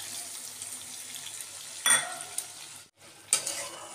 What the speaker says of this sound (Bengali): আর এই যে পোস্তর বাটি ধোয়া জলটা আমি দিয়ে দিচ্ছি।